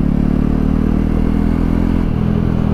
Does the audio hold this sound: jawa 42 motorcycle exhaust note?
yes